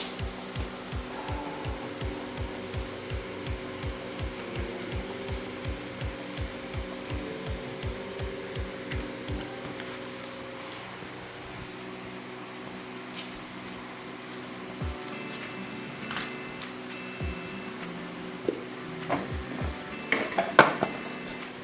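Metal sockets clink and rattle as someone rummages through them while fitting a car clutch, with a steady mechanical ticking running beneath for the first half and scattered sharper metallic knocks near the end.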